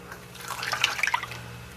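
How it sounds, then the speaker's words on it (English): Melted, cooled brown butter pours into a mixing bowl for chocolate chip pecan cookies, a soft close liquid trickle with small splashes and drips over a low background hum. "We're going to pour it all in here."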